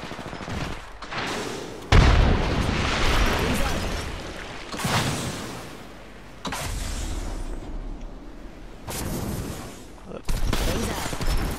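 Frag grenade blast and gunfire in a team shooter video game, loud repeated booms and bursts of rapid shots in several separate waves, with players talking over the action.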